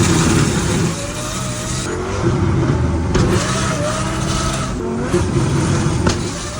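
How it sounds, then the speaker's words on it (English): A Lamborghini engine roars loudly, revving and popping as anti-lag builds boost while rolling, then surges harder as the car launches mid-roll. "the car builds a bunch of boost while I'm rolling, and then I let go of the button"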